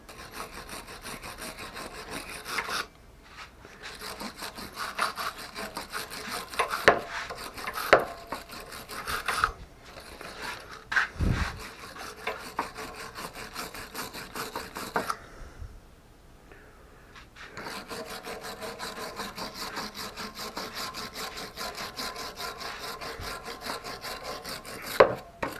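A wire brush scrubs a badly corroded water pump bearing shaft in harsh, rhythmic rasping strokes, loud and close, with brief pauses between bursts and a quieter stretch near the middle.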